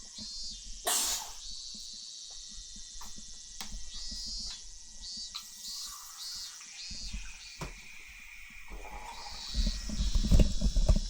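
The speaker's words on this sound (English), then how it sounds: "I had to clear my throat there" A single sharp throat-clearing burst near the start, followed by quiet background sounds with faint chirping and rustling.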